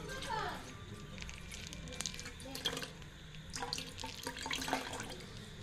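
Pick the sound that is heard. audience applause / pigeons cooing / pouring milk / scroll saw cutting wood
pouring milk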